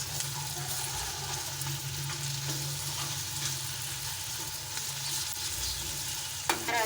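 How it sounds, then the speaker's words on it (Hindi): Ginger garlic paste frying with softened onion in a pan for aloo bhindi: a steady close sizzle with intermittent stirring scrapes, moderately quiet and continuous, with a brief clatter near the end. "अब इसमें हम अदरक लहसुन का पेस्ट, इसको भी हल्का सा फ्राई करेंगे।"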